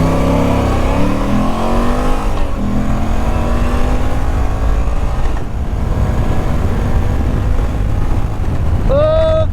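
A Moto Guzzi V85 TT motorcycle pulls away from a standing start, its twin engine revving hard up through the gears in rising sweeps with brief dips at each shift, loud and close throughout.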